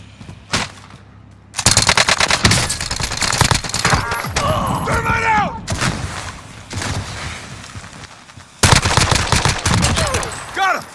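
Gunfire in Call of Duty Modern Warfare, including pistol shots, arriving as loud rapid bursts in two main stretches separated by quieter moments with voices and other game sounds.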